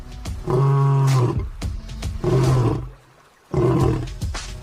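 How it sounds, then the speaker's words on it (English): A male lion roars in three powerful, rumbling bursts close by, with short breathy gaps between them. "Male lions roar every day to make the boundaries of their patch loud and clear."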